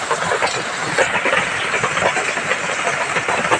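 Whole garam masala spices sizzle in hot oil in a village kitchen, a steady dense hiss with crackling pops running continuously throughout at close range, no voices.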